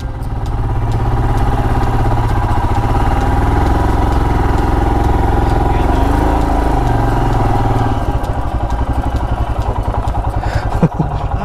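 A Royal Enfield Himalayan motorcycle engine labors loud and steady uphill on a South Indian ride, a dense continuous thrum that holds throughout, with a rattle near the end.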